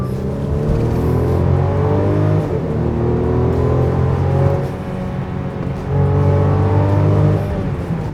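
A Mercedes-Benz GLC 300 Coupe engine in Sport Plus mode revs hard and accelerates, its roar rising and falling through gear changes, loud and close, with no talking.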